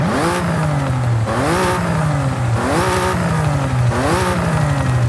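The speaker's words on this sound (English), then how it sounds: "what doesn't sound good is the exhaust note itself" Supercharged V6 car exhaust in the Forza Horizon 5 racing game, rising through repeated revving pulls, each climb cut by a shift and a drop before rising again, loud and continuous with a buzzy, straight-six-like tone.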